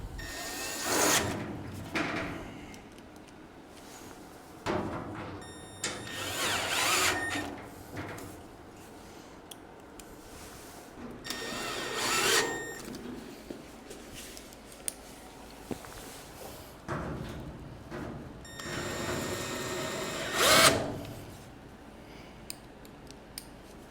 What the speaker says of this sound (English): we're going to hit these screws in all these little outside spots